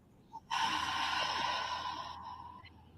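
A long, deep exhale during a guided breathing exercise, preceded by a short quick inhale, the breath close and steady for about two seconds before fading.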